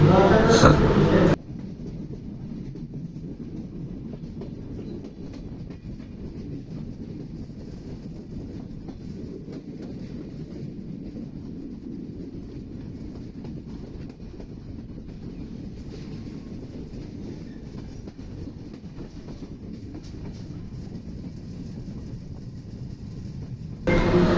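A passenger train on the Khulna to Dhaka line runs at speed, giving a steady, continuous rumble with wind buffeting the microphone. Louder bursts mark the very start and end.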